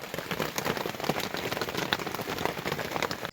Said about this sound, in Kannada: ನೋಡ್ರಿ ಇಲ್ಲಿ ನೋಡ್ರಿ ಮಳೆ ಬೇರೆ ಸಿಕ್ಕಾಬಟ್ಟೆ